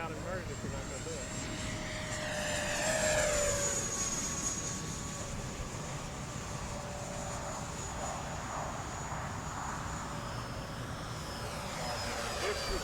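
An E-flite Habu STS 70mm EDF model jet whines steadily overhead, its pitch rising and falling as it passes. The sound is continuous and fairly loud, with people talking nearby.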